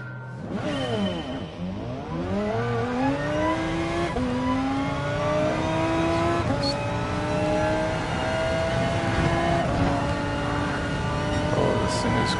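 Race car engine in Gran Turismo Sport, fitted with a can on the exhaust, revs and climbs through gears with rising whine, loud and sustained, with a voice talking over it.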